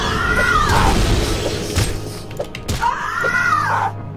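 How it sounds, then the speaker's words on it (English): A cat vampire creature in the video game Morrowind lets out two loud, wavering screeches, one at the start and one near the end, with game combat thuds and crashes between them. "Wow, that scream is kind of nerve-wracking."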